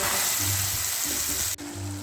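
Poppy seed paste going into a hot karahi with dried chilli and a little sugar for a river prawn posto dish sizzles steadily up close, a continuous frying hiss with a brief dip partway through.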